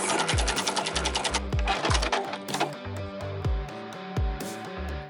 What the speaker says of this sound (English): I'm going to make sure to backstitch at the beginning and the end of my stitches.